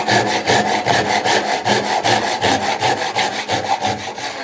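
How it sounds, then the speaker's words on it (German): Rhythmic rasping strokes of a Japanese pull saw crosscutting wood, close and loud, each stroke about a third of a second, no speech. "Säge ansetzen und wieder auf der zugewandten Seite bis zur Unterkante runtersägen"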